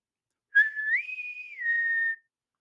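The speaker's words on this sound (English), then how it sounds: "The trailer opens with a bosun's whistle," A bosun's whistle opens the Star Trek Picard season 3 trailer as one clear, shrill call. It starts low, rises and holds, then drops back for a final sustained tone lasting under two seconds.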